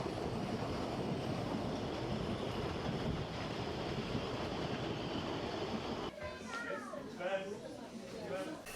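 A narrow-gauge train on the Radebeul-Radeburg Railway near Dresden rolls past with a continuous rumbling clatter for several seconds, then the noise cuts away and a voice speaks.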